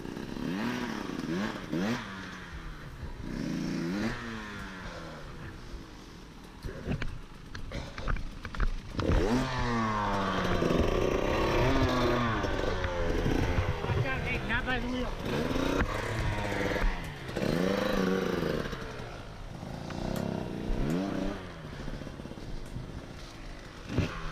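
A 300 dirt bike engine revs hard on a muddy moss-covered lake trail, rising and falling in repeated surges at close range, with people talking over the engine noise.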